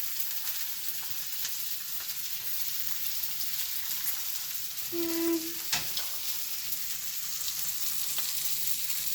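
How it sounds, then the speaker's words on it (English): An omelet with tomatoes fries in oil in a pan, sending up a steady, close hiss and crackle of sizzling that runs throughout, with a brief tonal beep partway through. "it'll be nice if you make a crispy omelet, which means you have to let it cook for a bit."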